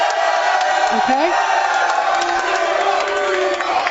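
Studio audience on a sports talk show cheering and whooping loudly for the Seahawks, a sustained close crowd roar with shouted voices and a brief spoken word over it.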